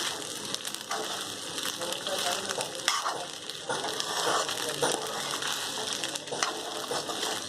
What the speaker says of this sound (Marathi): मी परतून घेत आहे.